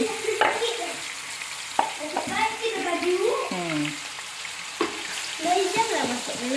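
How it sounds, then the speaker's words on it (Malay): Crackling sizzle of chicken frying until crisp in a pan, with stirring scrapes and clinks, and a person talking intermittently over it. "Goreng ayam bagi garing sikit."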